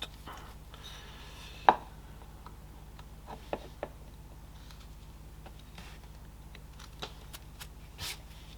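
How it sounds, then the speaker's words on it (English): A knife drawn in pull cuts through wood while carving a simple hooded figurine, heard as faint, close, scattered scraping clicks and nicks over a quiet background, with one sharper snap early on. "now I don't have any choice but to do a pull cut"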